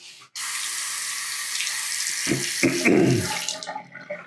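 Water runs steadily from a faucet in a unit of a three-unit apartment building in Cicero, Illinois, a continuous close rushing stream that shifts slightly in pitch near the end before tapering off.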